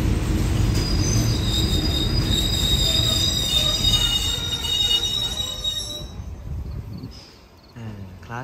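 Local SRT passenger train no. 445 rolls along the rails on a morning run, with loud steady wheel squeal and rumble close by that fades toward the end.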